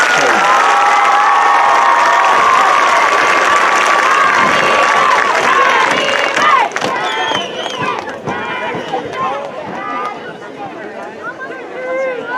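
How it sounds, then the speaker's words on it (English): A large crowd at a Brentwood High School commencement ceremony applauds and cheers for graduates, loud and sustained, with shouts and a whistle-like tone early on, then thinner clapping and excited voices carrying through. "Another round of applause for this row of graduates,"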